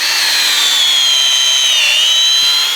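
Power drill boring a tap hole into a maple tree, a loud, continuous high whine from the bit grinding into the wood, holding steady and dipping slightly in pitch as it loads up.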